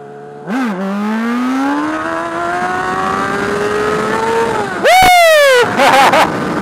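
A Yamaha R6 or Honda CBR600RR sport bike revs loud and close, its engine note climbing steadily through a long wheelie, then snapping through sharp throttle blips near the end.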